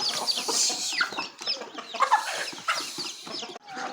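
Native country hens cluck repeatedly and busily up close, with the faint high cheeping of their chicks scattered throughout; no talking.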